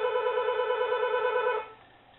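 A telephone rings in a single continuous electronic trill, fairly loud and close, then stops abruptly and fades into a faint hum.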